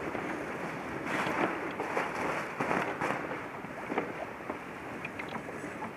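Sailboat under sail on open water, with steady wind rushing across the microphone and splashing water throughout, a few louder gusts and slaps of the hull near the start and middle.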